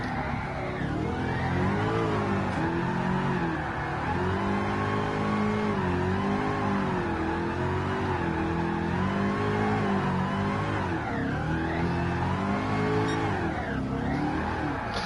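A drifting car in GT Sport at Tsukuba, the engine revving hard and continuously with wavering pitch as the throttle rises and falls, close and loud throughout.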